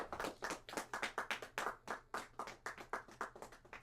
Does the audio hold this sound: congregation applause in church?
yes